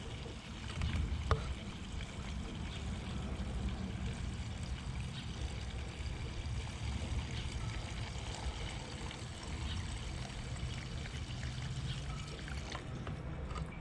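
Gasoline pours through a funnel into the tank of a 1979 Camaro that has sat for five years, making a steady, faint trickle and splash throughout.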